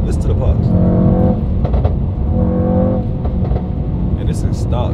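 A McLaren engine with stock exhaust revs loudly nearby, rising and falling, with sharp crackling pops from the exhaust between revs, over a low rumbling idle.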